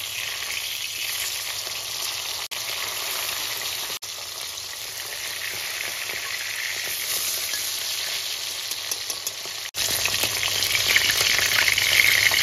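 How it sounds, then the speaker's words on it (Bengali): Tilapia pieces fry in hot oil in a wok, a steady dense sizzle with crackling that holds through the whole stretch and swells louder near the end, with no talking. "এবার এক একটা করে মাছ ভেজে নেব।"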